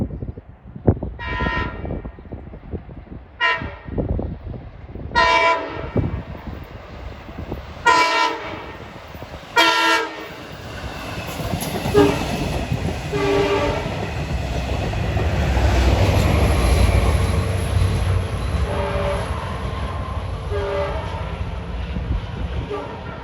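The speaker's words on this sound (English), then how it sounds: "we see train 2707 approaching from Montauk to Jamaica at 1:23" A Long Island Rail Road train horn sounds in several long blasts at a railroad crossing, then the rumble and clatter of the passing train builds and carries on beneath fainter horn notes.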